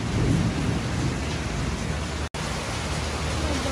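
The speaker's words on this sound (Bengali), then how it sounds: "বাইরে প্রচুর ঝড় বৃষ্টি হচ্ছে।" Heavy rain pours down outside during a thunderstorm, heard through a window from indoors as a dense, constant roar of rainfall with deep rumbling underneath and no speech.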